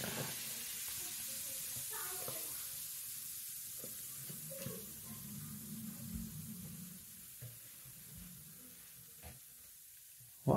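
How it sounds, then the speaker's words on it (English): Vinegar poured onto baking soda in a homemade volcano on a cardboard tray sets off a soft, steady fizzing hiss that slowly fades, with a few faint bumps and a loud knock at the end. "add the vinegar into the soda bicarbonate"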